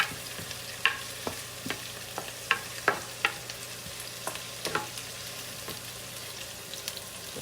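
Ackee and saltfish caramelizing in a pan is stirred with a utensil, making irregular sharp scrapes and taps against the pan over a soft, steady sizzle, with no talking.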